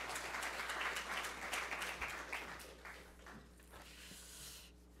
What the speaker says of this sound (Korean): 우리 목사님 나오실 때 우리 할렐루야 하면서 박수 치겠습니다.